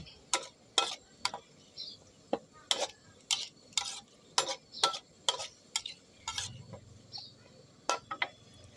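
Thai green curry paste being stir-fried in oil, with sharp scraping strokes of a utensil against the pan repeating in an uneven rhythm over a quiet, faint sizzle, close by and with no talking.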